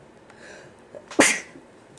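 A single loud sneeze, close by, with a short quiet inhale before the sharp burst.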